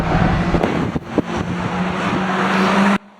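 Race cars battling at Cowdenbeath Racewall produce a loud, steady engine drone with a few sharp knocks and bumps, then an abrupt drop to near quiet.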